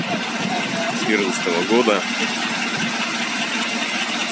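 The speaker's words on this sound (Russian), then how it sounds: "Вот мы слышим, как работает двигатель" A KAMAZ 6520 truck with a Euro 4 diesel engine, 2014 model, idles with a steady low rumble, heard up close while someone talks briefly over it.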